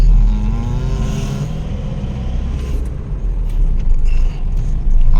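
A 2006 Isuzu D-Max Highlander 3.0 pickup pulls away in second gear, a loud steady diesel engine drone with road rumble, heard from inside the cab with no speech.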